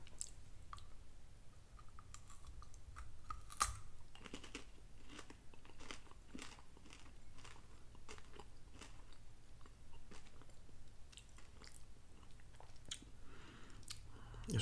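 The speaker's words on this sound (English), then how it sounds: "It's not really too difficult to bite or chew." Trader Joe's enrobed chocolate candy being bitten and chewed up close, giving soft, quiet crunches and clicky chewing sounds repeated steadily over a faint background hiss.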